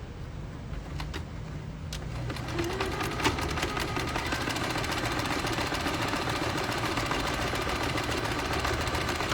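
A sewing machine topstitches the edge of a pocket for a fabric wallet-style pouch, its motor whirring steadily and close up with a fine rapid needle patter, rising after a quieter start and running continuously without talk.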